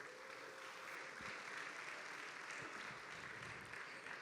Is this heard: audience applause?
yes